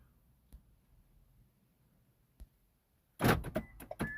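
Car doors locking remotely through a Compustar DroneMobile remote-start system: a few faint clicks, then a sharp cluster of loud mechanical lock actuator thunks near the end, with no talking.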